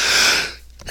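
A person sneezes close into a microphone: one short, sharp burst of breath that quickly fades away.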